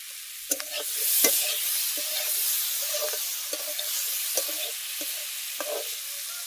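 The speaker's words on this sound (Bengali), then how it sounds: "ভালো ভাজা হবে মশলাটা, একটু জল দিয়ে দেবো।" Spice paste and potatoes fry in a pan in a village kitchen, giving a steady sizzle broken by regular scraping strokes of a stirring spoon, close and continuous with no talking.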